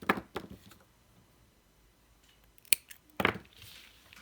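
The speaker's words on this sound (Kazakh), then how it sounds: "Осы клубоктың ішінен примерно 50 сантиметрліктей ұзындықта зерімізді қиып" Scissors snipping metallic embroidery thread cut to about 50 centimetres for sewing ornaments, a few sharp close clicks spread over quiet.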